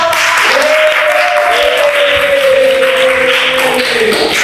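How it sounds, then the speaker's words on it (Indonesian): Loud, close clapping from a classroom of students, with a teacher's voice calling out over the applause for several seconds. "Terima hebat, silakan tepuk tangan."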